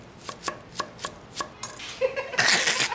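A knife chops red onion on a board in a quick, even rhythm of about half a dozen close, crisp strikes, followed by a louder burst of rustling and clattering.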